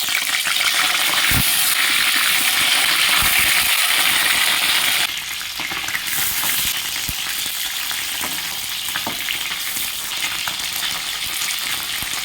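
Mrigal fish pieces sizzle and crackle steadily in hot mustard oil in a pan, a loud, dense frying hiss that runs throughout, easing slightly partway, with occasional clicks of a utensil.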